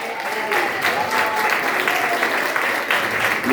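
A church congregation at a teaching service breaks into dense, steady applause that fills the room from start to finish, with a few voices mixed into the clapping.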